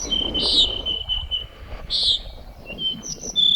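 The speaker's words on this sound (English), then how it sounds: "I can hear the call of the sparrow, the flycatcher, the pinyon jay, and the nighthawks." Birds sing and chirp outdoors in the high Sierra desert near the California-Nevada border, with bright repeated whistled calls and short tweets at moderate distance over a soft, breezy background.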